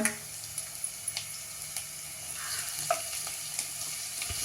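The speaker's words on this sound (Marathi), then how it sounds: "लसूण भरपूर घालायचं आलंही घालते आहे थोडंसं परतून घेऊया" Plenty of chopped garlic and some ginger sauté in hot oil for Schezwan fried rice, a soft continuous sizzle punctuated by light spatula taps and clicks.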